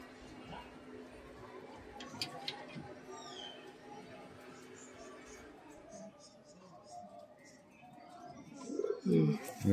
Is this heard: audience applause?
no